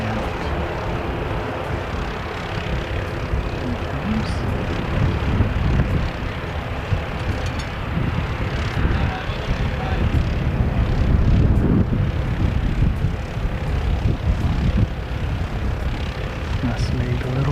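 Air New Zealand flight NZ360 departs Wellington, its engines giving a sustained broad roar that swells toward the middle. Wind buffets the microphone throughout, and occasional voices can be heard.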